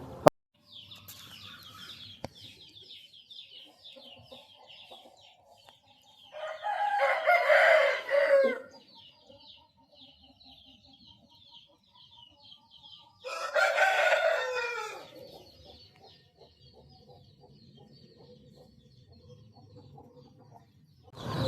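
A large black-banded Rasangi rooster crows loudly twice, several seconds apart, over a background of softer clucking and chirping birds.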